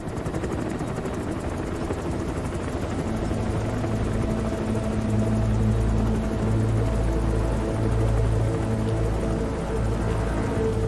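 A military helicopter in a Metal Gear Solid V cutscene drones loudly with a steady rotor thrum and deep engine rumble, continuous and close throughout.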